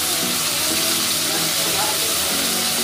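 Two sliced onions frying in oil in a pan, a loud, dense, close sizzle that holds steady for a few seconds.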